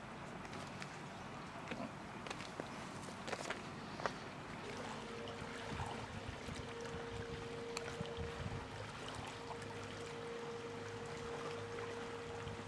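A ferry crosses a lake in the Lake District, giving a steady low engine drone with water wash and wind; the engine tone steadies and grows more prominent partway through, with no talking.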